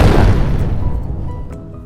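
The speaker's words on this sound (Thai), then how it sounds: "เมื่อกี้มันเป็นแบบจุดพลุนะครับ" Firework-like skill effect in the video game Devil Fruit: Fate of Pirate, a single loud booming burst that decays over about two seconds into a fading rumble.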